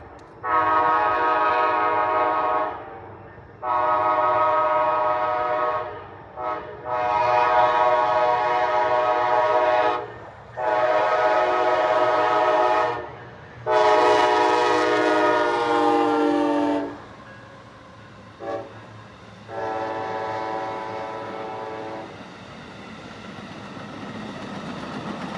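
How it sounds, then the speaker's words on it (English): Amtrak passenger train P041, led by back-to-back GE Charger locomotives out of Chicago bound for Miami, sounds a long series of loud, close horn blasts in a steady pattern, then fades to rumbling railcars. "here comes Amtrak PO41 with back-to-back chargers coming from Chicago"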